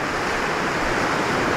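Turbulent river water at the Devprayag confluence of the Bhagirathi and Alaknanda rivers roars in a steady, loud, broadband rush with no pauses.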